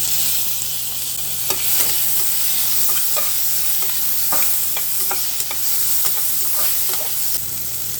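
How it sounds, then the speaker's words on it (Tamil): Steady sizzling of chopped tomato frying in a pan, with occasional scraping and stirring clicks, close and continuous. "இப்போ நறுக்கி வச்சுருந்தா ஒரு தக்காளி சேர்த்துக்கலாம்."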